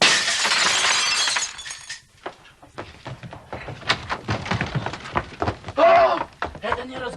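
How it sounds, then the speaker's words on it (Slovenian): A glass window pane shatters loudly at the start, its crash and tinkling debris filling the first two seconds, followed by scattered knocks, thuds and voices talking indoors. "Eden je razbil šipo."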